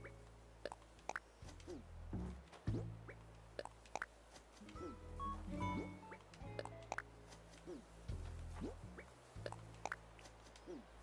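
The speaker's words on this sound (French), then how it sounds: "Faut qu'on arrose tout ça aussi." Crops being watered in the Animal Crossing video game, heard as a string of soft watery splashes and drips in a steady rhythm over quiet tonal game music.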